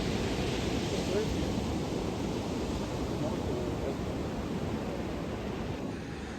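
Ocean surf rolls steadily onto a beach, a continuous broadband wash of breaking waves with some wind rumble, loud and close, with no distinct talk over it.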